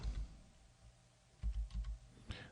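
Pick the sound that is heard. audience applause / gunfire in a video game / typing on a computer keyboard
typing on a computer keyboard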